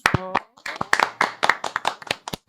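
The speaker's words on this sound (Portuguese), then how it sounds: "Aplausos" A studio audience claps in a quick, uneven burst of applause welcoming podcast guest Crislaine Marinho, sharp close hand claps running the full length with a few scattered whoops.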